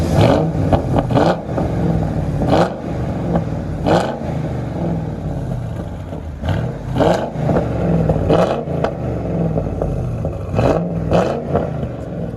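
Straight-piped true dual exhaust on a 2006 Lincoln Town Car with a 4.6L V8 roars through a series of sharp, loud throttle blips, each rev rising and falling over a steady, burbling idle, close by with no talk.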